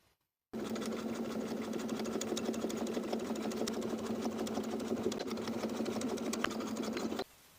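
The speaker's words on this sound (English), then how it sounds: "edge stitch the bias tape in place along its opposite inner folded edge" A sewing machine edge-stitches bias tape along an armhole of a Butterick B6566 summer jumpsuit, whirring in one steady continuous run of about seven seconds, close and alone.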